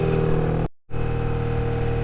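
A trawler boat's engine runs with a loud, steady droning hum near Bilaichhari, cutting out briefly to near silence in the middle before resuming at the same level.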